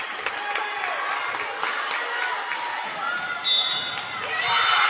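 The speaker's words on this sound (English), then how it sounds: "That's the Cowley crowd you hear cheering right now." The Cowley crowd cheers at a junior college volleyball quarterfinal, a broad, bright roar of voices and clapping that swells near the end of the rally, with a commentator talking over it.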